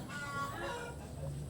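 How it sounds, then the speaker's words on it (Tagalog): Chickens cluck faintly outside in the background, a low continuous farmyard murmur without clear speech. "marami pang manok sa labas"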